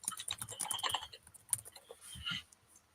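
Fingers tap on a computer keyboard in quick, uneven bursts of clicks, fairly close and moderately loud, with a short pause before a final flurry of keystrokes.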